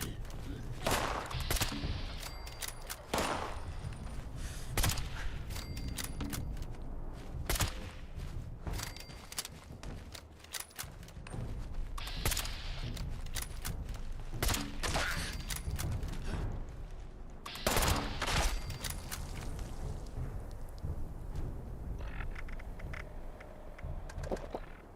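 Repeated bursts of gunfire from shooting at groups of enemies in the game Fallout 76, loud and rapid with short pauses between volleys, set over steady game background noise and footstep-like sounds.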